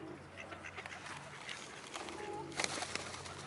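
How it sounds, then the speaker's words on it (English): Coco, a pigeon, gives a soft low coo amid quiet bird chatter and background rustling, faint and close, with a brief louder burst near the end. "Coco the pigeon"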